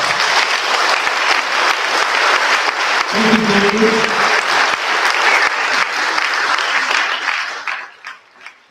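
Sustained applause from an audience on a talk show, steady and dense for most of the stretch, with a brief spoken thank-you partway through before the clapping tapers off at the end.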